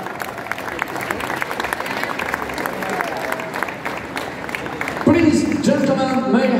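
Trophy presentation crowd at the 24 Heures du Mans applauding in a dense, continuous spatter of clapping, with a voice speaking over it and louder tonal sound entering near the end.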